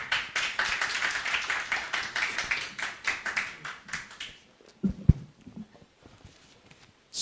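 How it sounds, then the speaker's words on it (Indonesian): An audience at an electric bus trial launch ceremony claps in a close, rhythmic burst of applause that fades out after about four seconds, leaving a few scattered taps and thuds. "Boleh beri tepuk tangan."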